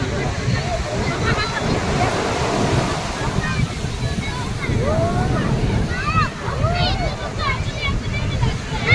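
Sea waves rush and break on the shore at Somnath with wind buffeting the microphone, while people talk and chatter in the background.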